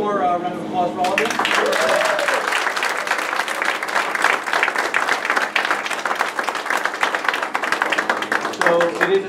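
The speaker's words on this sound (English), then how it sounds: "One more round of applause for all of you." A roomful of people at a school board meeting gives a student class another round of applause, loud continuous clapping starting after a brief moment of speech and running to the end, where a voice returns.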